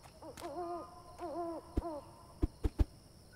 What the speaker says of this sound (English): That was an interesting owl noise.